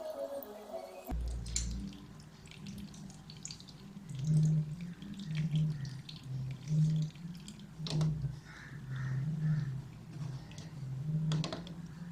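Water drains from a washing machine being serviced, heard as a steady trickle with soft, irregular drips and gurgles close by, over a faint background hum and with no talking.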